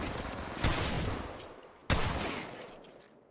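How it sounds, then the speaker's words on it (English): Two loud gunfire bursts from the video game Apex Legends, each a sharp onset trailing into a dense rattling decay, close and dominant with no talk. "Opening fire."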